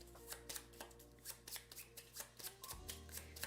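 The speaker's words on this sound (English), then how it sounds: "We're going to shuffle those up." Cards for the Wyrmspan board game being shuffled, a quick run of close, crisp riffling flicks in a steady rhythm, quiet overall with a faint low hum beneath.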